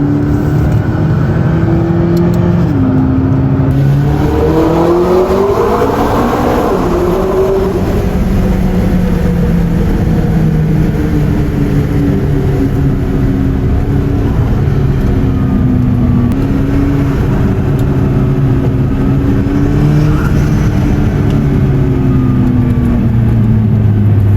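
McLaren 12C sports car on the road, heard from inside as a loud steady engine drone with the pitch climbing and shifting through gears, under constant road and wind noise.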